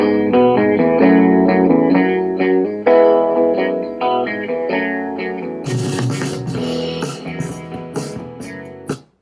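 A song plays loudly and continuously from an Amazon Echo smart speaker as part of a home routine, its tone shifting partway through before cutting off abruptly at the end.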